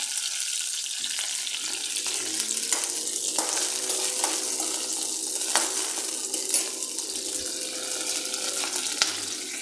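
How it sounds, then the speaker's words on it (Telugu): Green chillies deep frying in a tablespoon of oil in a pan for mint chutney, a steady close sizzle with scattered sharp pops and light stirring scrapes throughout, no voices. "గ్రీన్ చిల్లీస్ యాడ్ చేసి one table spoon oil add చేసేసి బాగా డీప్ ఫ్రై చేయాలండి"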